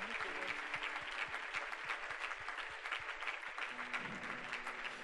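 A church congregation applauds the Lord together, steady dense clapping filling the room with a rhythmic beat running underneath.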